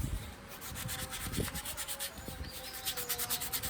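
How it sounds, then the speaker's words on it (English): A wooden Y-branch slingshot is sanded by hand in quick, rhythmic back-and-forth rubbing strokes, close and fairly quiet, with no talk. "So now we can do the final sanding."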